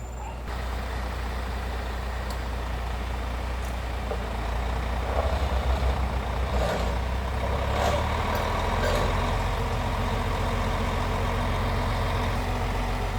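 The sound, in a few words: new yellow vehicle engine idling with reversing beeps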